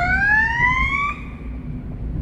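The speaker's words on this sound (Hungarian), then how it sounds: "Csak jelzés értékkel szirénázok, látjátok, szépen félrehúzódnak az autósok." An ambulance siren wails in evening city traffic, a rising two-tone sweep that stops abruptly partway through, leaving a low engine and road rumble beneath; loud and close, with no talking.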